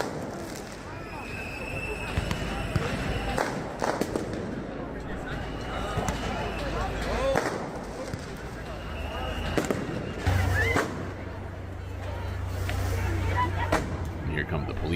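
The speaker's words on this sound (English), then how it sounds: "They got lasers, they got fireworks." Fireworks at a nighttime street gathering with lasers, thumping in irregular bursts over a constant crowd din while people talk nearby.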